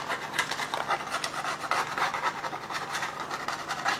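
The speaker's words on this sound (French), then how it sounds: "On va gratter. Est-ce que ça s'en va?" A fingernail scratches rhythmically across a hydro-dipped part to test the printed finish, giving a close, steady series of dry rasping rubs with no talking.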